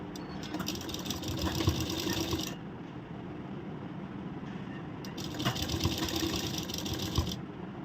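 A sewing machine stitches blouse fabric in two bursts of rapid, buzzing whir, each a couple of seconds long, separated by a quieter pause of low background noise.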